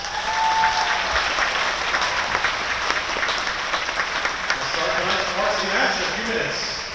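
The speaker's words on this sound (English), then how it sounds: "Let's give them one more round of applause." A high school crowd applauds volleyball seniors on senior night with dense, sustained clapping that fills the gym from start to finish, with voices mixed into it.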